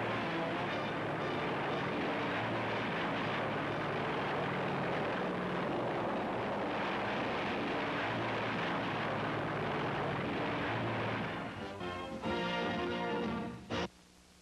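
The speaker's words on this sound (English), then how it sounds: "showing the world's biggest and most controversial plane flying and landing" The Hughes H-4 Hercules, a huge propeller-driven flying boat, roars continuously overhead, a loud sustained drone that fades and breaks up near the end.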